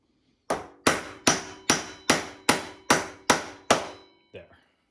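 A big hammer strikes a scrap bolt set against a Yamaha FZ8 motorcycle handlebar to drive in a new end grip: eight loud, evenly spaced metallic blows, then a softer final tap, close up with no talk.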